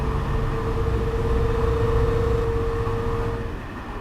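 Pacific Surfliner train engine in Train Simulator 2016 running with a steady, loud drone and a sustained tonal hum, holding evenly before thinning out slightly near the end.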